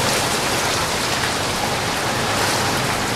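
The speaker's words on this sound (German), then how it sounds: "Momentan ist es nur Starkregen, extremer Starkregen" Extreme heavy rain during a severe thunderstorm line over Austria, a dense, steady, loud roar of downpour with no pauses and no voices.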